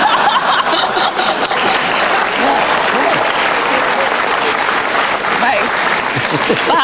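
A studio audience at a televised talk show bursts into loud, sustained applause, dense clapping that fills the whole stretch at steady volume with faint voices mixed in.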